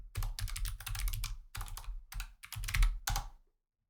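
Computer keyboard being typed on in short rapid bursts of clicky keystrokes, close and fairly quiet, with brief pauses between runs before stopping.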